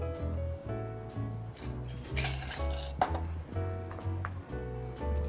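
Ice clinks and rattles against metal and glass as a Johnnie Walker Manhattan with bitters is strained into a rocks glass, a steady run of close, light clinks over a low background hum.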